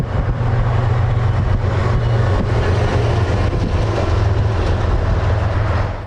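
Norfolk Southern freight train NS-367 rolls past heading south towards Atlanta, a loud, close, continuous rumble with rhythmic wheel clatter throughout.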